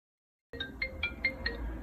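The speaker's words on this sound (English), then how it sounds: "you'll be able to choose a ringtone from some iPhone" A short iPhone ringtone melody of bright, evenly spaced beeping notes, five tones in a quick rising-and-falling pattern, heard alone over faint background hiss.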